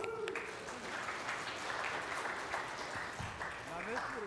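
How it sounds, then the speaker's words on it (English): A church congregation at a Sunday service gives a round of applause, a moderate wash of clapping under some talk that carries on throughout. "give him a round of applause"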